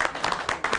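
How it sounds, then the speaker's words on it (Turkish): Audience applauding at a live electro bağlama music show, a brief burst of dense, steady clapping close up. "Bir alkış istiyorum en kocamanın."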